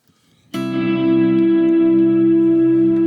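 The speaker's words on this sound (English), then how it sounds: "Turn my reverb on and just show you what's going on with the reverb." Electric guitar played through a Kemper legacy reverb module with a full wet mix: a single strummed chord starts sharply and rings on as a long, loud, sustained wash of reverb that fills the whole clip, with no voices.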